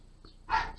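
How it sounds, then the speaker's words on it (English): A single short dog bark, faint and a little distant, follows a tiny yip in a quiet room. "If you could hear that, the dog is barking."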